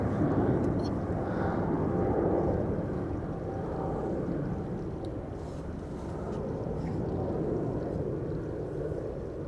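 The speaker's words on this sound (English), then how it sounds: "Singapore Airlines, flight 323 to Singapore, A350-900" A Singapore Airlines Airbus A350-900 departing Amsterdam Schiphol, a broad rumbling jet roar that stays loud and steady throughout, with no talk over it.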